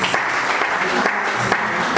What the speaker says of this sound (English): Round of applause for Anthony, please.